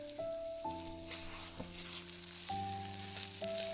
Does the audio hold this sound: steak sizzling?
yes